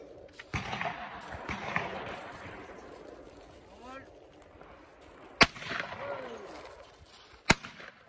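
Two sharp shotgun blasts at a trap clay shooting competition, each a loud crack standing out from a low murmur of outdoor ambience and distant voices.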